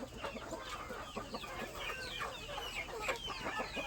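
Backyard homestead chickens with a rooster cluck busily and continuously at close range, overlapping short calls and squawks filling the scene, with no one talking.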